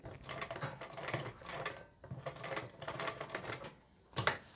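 A sewing machine stitches a pleated long skirt, a quiet, rapid, fluttering mechanical patter that runs in uneven bursts with short pauses, close and fairly faint, with no voices.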